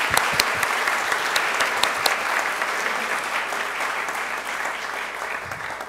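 An audience at a 2015 gala dinner in New York claps in warm, sustained applause, with many hands close by at first and then settling into an even patter.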